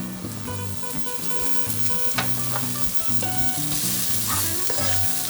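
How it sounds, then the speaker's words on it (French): Onions sizzling steadily in a hot pan while cooking moules marinières with fries, a continuous close frying hiss broken by a few sharp pops and stirring clatters, with a low background hum and no talking. "J'ai mes oignons qui continuent à frire"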